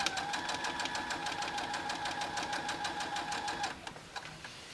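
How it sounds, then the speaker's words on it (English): Sewing machine stitching two fabric strips together for bias binding: a fast, even mechanical rattle of needle strokes running steadily for nearly four seconds, then stopping, with a few faint clicks after. "put them under the machine"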